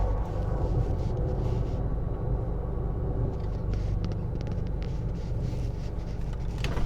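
A Nissan GTR R35 on a Kenyan road gives a steady, loud low rumble of engine and road noise throughout, dense and continuous with no clear revving peaks or voices.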